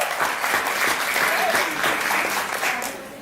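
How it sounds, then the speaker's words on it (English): Wedding guests at a reception in Thailand clap for the bride during a best man's speech, a short burst of lively, dense applause with a few voices mixed in, fading slightly toward the end. "everyone, round of applause for the beautiful bride."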